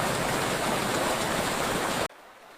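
Freezing meltwater rushes through Pelican Creek in winter Yellowstone as a steady, loud, close broadband roar with no talking, then cuts off abruptly near the end.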